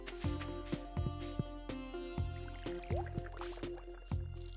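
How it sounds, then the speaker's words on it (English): Watering crops in the video game Stardew Valley brings a string of watery splashes and drips that recur in a steady rhythm over a constant low game tone. "Oh, I gotta water those."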